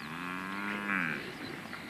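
A Cape buffalo lows on the Serengeti, a single deep, drawn-out moo-like call that is moderately close and faint-to-medium in level, with no talk over it.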